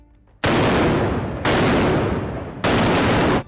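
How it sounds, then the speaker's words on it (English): A cannon volley from the frigate Diana, a sailing warship, lands as three loud, rumbling broadside blasts, each swelling and then decaying slowly before the next one hits, with no voices. "The frigate Diana scrambled her gunners to the starboard side and laid down an opportune volley"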